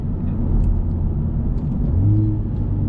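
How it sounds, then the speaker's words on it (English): A 2020 Honda Civic Type R driven on Trabuco Canyon Road gives a steady, close engine rumble with a brief rise in revs near the end as it rev-matches on a downshift. "Now you have the rev matching, so you guys can see it working there."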